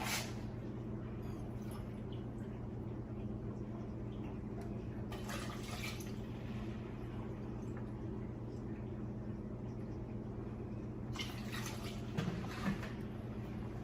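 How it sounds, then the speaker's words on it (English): Sugar and vinegar poured into a pot of pickling liquid for sweet gherkins, with two brief rushing pours over a steady low kitchen hum. "We're gonna add 2 more cups of sugar. And 2 more cups of vinegar."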